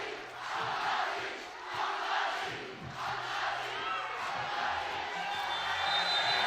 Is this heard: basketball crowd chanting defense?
yes